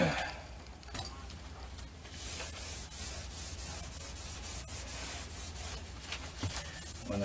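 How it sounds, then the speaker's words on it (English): A cloth wipes Vaseline along a refrigerator door's rubber seal, making soft, repeated rubbing strokes that are quiet and close. "I just put a little bit of Vaseline back on here as I wipe it too"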